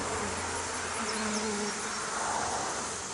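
Honeybees buzz at an open beehive in a dense, continuous drone that stays close and steady throughout, with no talk.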